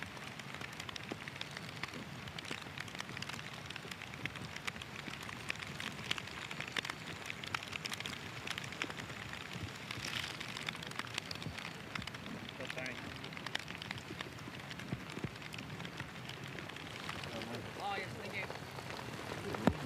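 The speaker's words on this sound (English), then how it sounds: "It's a good soaking rain here." A soaking rain falls steadily on the Taiheiyo Club golf course at Gotemba, Japan, during the third round of an amateur championship, making a constant hiss throughout while commentators talk.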